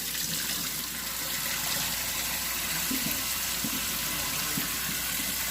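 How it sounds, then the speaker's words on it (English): Tap water runs steadily over boiled corn cobs in a sink, a continuous, even splashing rush with no talking. "I'm rinsing it out, getting all that cinnamon and stuff out of there, and cooling it down some"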